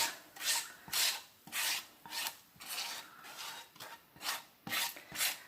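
Spice mixture scraped from a container into a well in the middle of a pan of Indian mixed vegetables, a series of about ten short, close rasping strokes in a steady rhythm with no talking.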